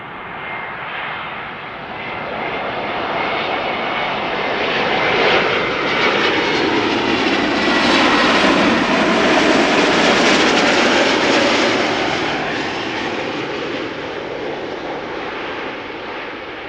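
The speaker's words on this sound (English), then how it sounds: "KLM Embraer 190." A KLM Embraer 190 at Amsterdam Schiphol passes with a broad jet engine roar that swells steadily to a loud peak midway, then slowly fades as it moves off, with no voices over it.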